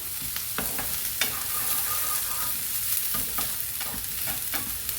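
Onions frying in oil for a cashew cauliflower curry, with a steady close sizzle broken by the regular scrape and clack of a stirring spoon in the pan.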